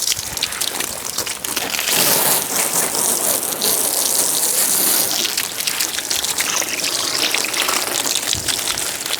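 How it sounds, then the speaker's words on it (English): A garden hose sprays water over a flooded Mercruiser boat engine, a dense, hissing patter of spray and splashing close by, continuous for several seconds with slight surges and no voices. "I'll just hose it off. Let's give it a good little washing. Rinse all this down."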